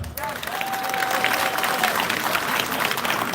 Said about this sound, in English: Farmers, clap for yourself.